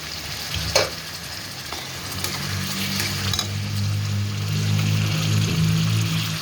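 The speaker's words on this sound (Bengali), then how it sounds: "এখন দিয়ে দেব পেঁয়াজ বাটা" Onion paste sizzles steadily in hot oil for a chicken and kohlrabi curry, a constant close crackle and hiss with a brief clatter early on and a low hum underneath, no voices.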